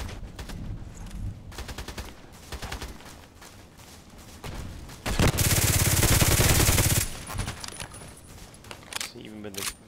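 Rapid gunfire from the Contract Wars online shooter, with bursts of automatic and single shots throughout and a loud, sustained volley in the middle, mixed with other close combat noise.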